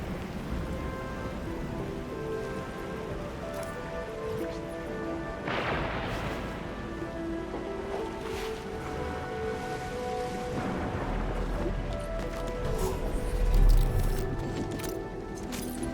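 Steady rain pours down in a dense, continuous hiss, with occasional heavier splashes and a low rumble swelling near the end, in the video game Arknights: Endfield.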